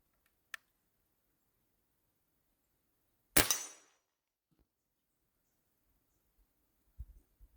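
A single air rifle shot with a 55.5 grain slug at 20 yards cracks sharply and fades quickly in a quiet setting, followed by a few faint clicks and thuds.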